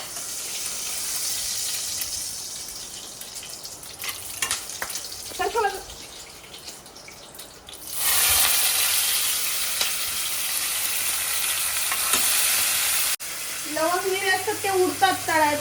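Cumin and spices crackling in oil in a home kitchen over high gas, a quiet sizzle that jumps to a loud, steady hiss midway; someone talks over it at times.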